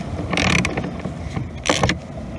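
A Torx T10 screw on a car power mirror being unscrewed with a driver, two short bursts of ratcheting, clicking mechanism noise close by with a quieter gap between them and no talking.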